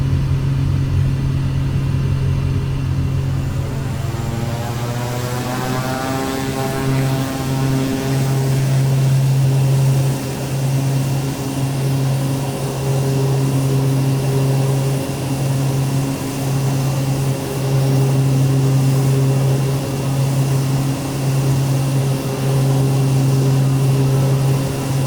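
A Pilatus PC-6 Porter propeller aircraft climbing out past a tree line in Microsoft Flight Simulator, its loud, constant engine-and-propeller drone holding steady throughout, with a rising tone early on.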